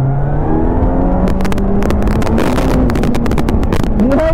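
A Kawasaki Z900 motorcycle revs and accelerates hard, its engine note climbing in pitch through the gears, loud and close with strong wind buffeting over the rider's mic.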